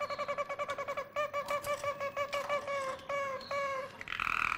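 A Harz canary sings a flute-like song tour of rapid, evenly repeated clear piping notes, then shifts to a slower series of sustained whistles before closing with a brighter phrase, close and clean with no talk.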